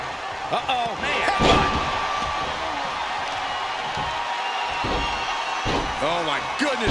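Heavy body-slam impacts in WWE 2K25 wrestling gameplay, High Chief versus The Animal: several loud thuds over a steady crowd roar, with commentary voices talking throughout.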